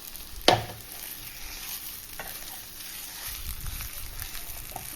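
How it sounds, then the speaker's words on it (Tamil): Chettinad uppu seedai dough stirred in a pan off the heat, a soft scraping and gentle crackle with one sharp clack near the start, close and fairly quiet throughout. "இந்த மாதிரி நல்லா கிளறி கொடுக்கலாம்"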